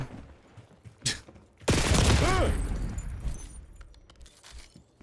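Grenade blast and gunfire in a first-person shooter game: a few sharp shots, then a loud sustained explosion that slowly fades, with faint scattered pops afterward.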